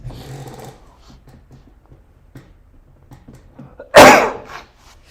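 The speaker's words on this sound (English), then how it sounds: "Excuse me, I gotta sneeze." A single loud, sharp sneeze bursts out near the end, after a stretch of quiet, low mumbling talk.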